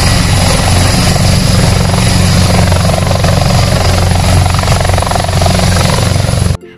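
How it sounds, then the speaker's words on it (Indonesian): A helicopter roars steadily and loudly throughout, rotor thrum and engine whine continuous, then cuts off abruptly at the end. "ini ada helikopter ternyata"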